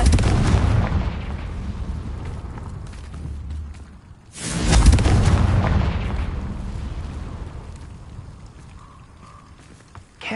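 A Confringo blasting spell goes off in Hogwarts Legacy: a heavy rumbling boom that fades, followed around the midpoint by a second, louder explosive burst. Its long rumbling tail dies away into quiet.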